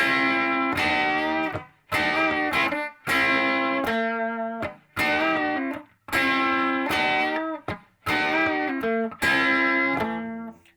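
Guitar plays the instrumental interlude from a song, phrases of ringing chords and picked notes separated by brief gaps, up close with no voices.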